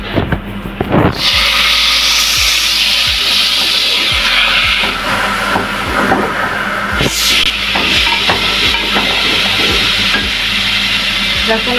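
Tomatoes added to golden-brown frying onions in a pan, a loud sizzle that flares as they go in, with a sharp burst of hissing steam midway and scattered scraping stirs.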